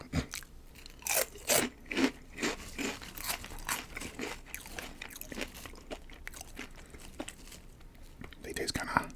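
Hot-sauce flavored chips are crunched and chewed close to the microphone in a quiet ASMR setting, with a sharp bite and several crisp chews following one after another, occasionally accompanied by soft crinkling.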